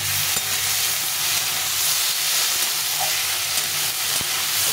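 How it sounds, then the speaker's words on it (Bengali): Chopped ginger and green chillies fry in a pan, giving a steady close sizzle and hiss with a few light stirring scrapes and taps, and no talking over it. "এই আদা কাঁচা লঙ্কাগুলো ভাজা ভাজা হয়ে গেছে।"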